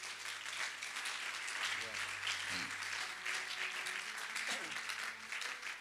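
A church congregation applauds and cheers for Jesus, a continuous roomy wash of clapping with a few voices rising through it.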